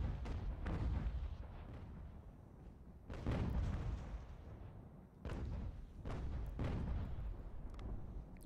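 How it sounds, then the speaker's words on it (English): Booming cannon fire from an eighteenth-century battle in Ultimate General: American Revolution, several heavy low thuds at irregular intervals with rumbling tails, distant-sounding and layered over constant battlefield din. "I love the look of the artillery in this game, by the way."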